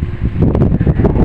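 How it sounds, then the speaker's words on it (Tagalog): Strong gusting wind at a ship port blows across the microphone in buffeting, rumbling surges, loud and close with no talk. "So medyo malakas ang hangin ngayon"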